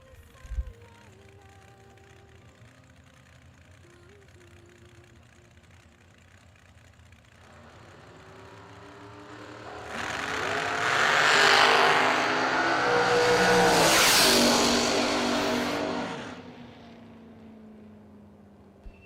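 Dragster making a run at a drag strip, starting as a low, distant engine rumble that swells into a loud, raspy roar, peaking in the middle and then fading away as the car passes.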